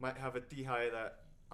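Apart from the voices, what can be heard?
None of the usual background noises is heard.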